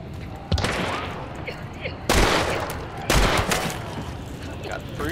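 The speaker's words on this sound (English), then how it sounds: "Where did he shoot me from?" Gunfire from the Hunt: Showdown video game, with three loud, close shots booming at irregular intervals over a noisy background and speech.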